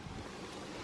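Strong wind roars steadily across the microphone outdoors near the water where someone is out kitesurfing, a continuous broadband rush with no pauses and no voices.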